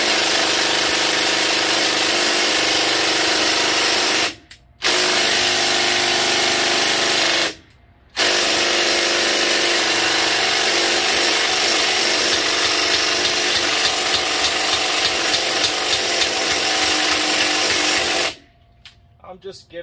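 Impact wrench on rear brake caliper hardware of a Honda Odyssey, a loud, harsh, continuous buzzing rattle that cuts out briefly twice before a longer run, close up, with someone talking over it.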